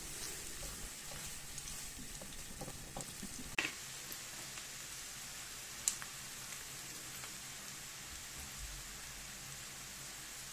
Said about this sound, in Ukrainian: Цибуля в нас має посвітліть, стати прозрачною, і я додаю до цибулі сіль та перець.